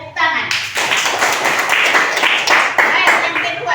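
Children in a classroom clap their hands together in a burst of dense, rapid claps that runs steadily for several seconds, close and loud.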